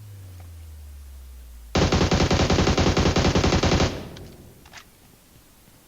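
A Mini 14 rifle fires in a video game shootout, a loud, rapid run of shots lasting about two seconds before fading into a quieter tail with a few faint later cracks.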